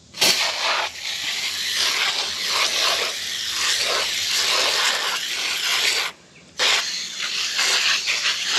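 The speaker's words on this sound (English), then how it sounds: "let's spray this stuff on and see what happens." Coil cleaner sprays onto an RV air conditioner coil as a loud, steady aerosol hiss. It breaks off briefly and then resumes.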